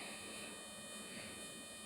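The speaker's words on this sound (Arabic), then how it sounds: "تسمع صوت الطيارة" Steady broadband roar of an airplane passing overhead in a video game, a constant wash of engine noise held at even loudness for the whole short stretch with no voices.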